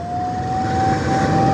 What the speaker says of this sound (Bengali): দেখেন এই যে অ্যাম্বুলেন্সের কি অবস্থা